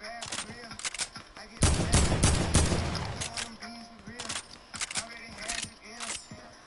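Rapid minigun fire in a video game, a dense loud burst in the middle amid other gunshots and game effects, with a player talking throughout.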